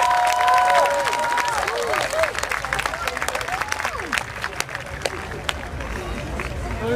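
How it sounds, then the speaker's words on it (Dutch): Crowd applause and cheering at an outdoor Keti Koti theatre event in Amsterdam East about slavery, honouring the ancestors; steady clapping with shouts and whistles, loud at first and thinning over seven seconds, with voices talking through it. "Dus als iedereen nog één keer wil staan en een applaus wil geven voor hun ancestors"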